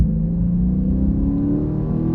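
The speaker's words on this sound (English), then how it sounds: "I love like the burble of the exhaust." Dodge Charger 392 V8 exhaust burbling as it accelerates, a loud steady low rumble close by that carries on without pause, with no talking.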